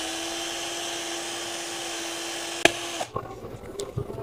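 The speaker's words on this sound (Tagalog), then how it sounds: "Gamit lamang po yung mini drill" A small rotary mini drill polishes a metal shaft, humming steadily at high pitch, then stops abruptly after a sharp click, leaving soft handling noises.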